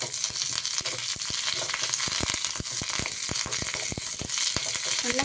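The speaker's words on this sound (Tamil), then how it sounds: "இதையும் போட்டு அதே மாதிரியே நம்ம நல்லா பொரித்து எடுத்துக்கலாம்" Curry leaves frying in hot oil, a loud, dense sizzle with constant crackling and sharp pops scattered throughout, close up and uninterrupted.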